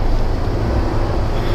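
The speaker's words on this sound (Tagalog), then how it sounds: "Medyo maalon. Maalon ng biyahe." Choppy sea waves churn around a boat crossing to Calapan Port in Mindoro, with a loud, constant wash of water and wind rumble close to the microphone.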